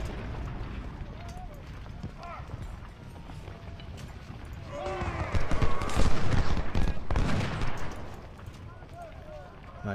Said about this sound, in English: They're shooting my cavalry, that's fine.